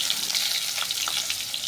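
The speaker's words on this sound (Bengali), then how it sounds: "আলুগুলো একটু লাল লাল করে আলুগুলো ভেজে নেবো।" Potato pieces fry in a pan with salt and turmeric, a close, continuous sizzling crackle at an even level with no talking.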